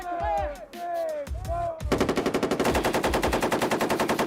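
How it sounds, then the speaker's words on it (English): Marine machine guns fire in a live-fire drill, with a voice talking over the opening bursts before a fast, steady stream of loud, close shots takes over. "Talking guns is where you have two sets of guns, and one is going to be firing"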